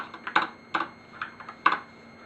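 Typing on a Filco TKL Majestouch mechanical keyboard with Cherry MX Red switches and Raindrop V2 keycaps: a few separate, fairly close key presses, each a crisp clack, spaced irregularly and heard alone.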